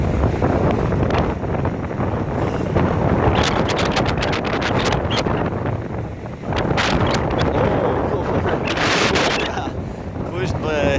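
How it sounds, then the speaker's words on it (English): Strong wind of about 50 km/h roars and buffets the microphone continuously and loudly, rising and falling in gusts, on a boat at sea. "Pushed by this wind, so I guess it's like 50 something kilometers an hour."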